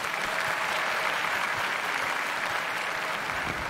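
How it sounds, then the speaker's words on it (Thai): A studio audience on a Thai television show bursts into dense, steady applause as a police guest enters, a loud, unbroken wash of clapping that holds its level for the whole stretch. "ท่านกรรมการครับขอเสียงปรบมือต้อนรับ"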